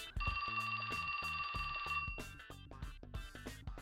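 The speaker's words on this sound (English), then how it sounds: "That's my phone." A mobile phone ringing with a bright, electronic, bell-like ringtone, a steady tonal ring over a rhythmic beat, loud and close.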